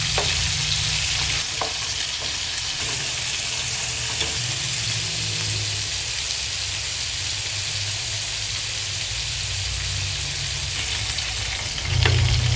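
Chicken pieces for adobo fry in a pan while being turned to brown the other side, a steady close sizzle running the whole time with a few faint stirring knocks and a louder burst near the end.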